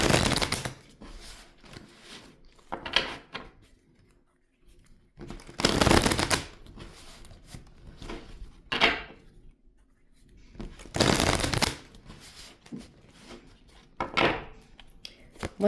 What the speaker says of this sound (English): let me shuffle and see what that's about